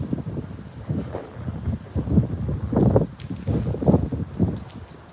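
Gusty wind during a typhoon in Taiwan buffets the microphone in uneven rumbling bursts, steady and close, with no voices over it.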